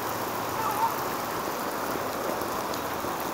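Steady, dense outdoor rain falling continuously, a broad close hiss with no breaks or other clear sounds.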